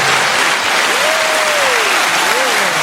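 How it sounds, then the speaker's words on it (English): Loud, dense applause from a close audience, continuous clapping with a voice briefly rising over it before the sound stops abruptly. "Let's give her a little applause."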